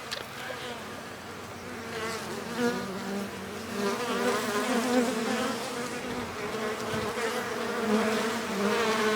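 Dense, continuous buzzing of many honeybees swarming close around an open hive, a wavering drone that stays loud and steady throughout.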